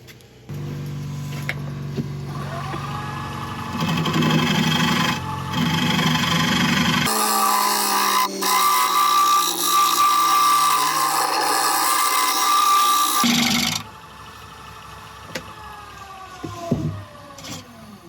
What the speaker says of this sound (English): I'm just going to get the scraper in here and sort out the base.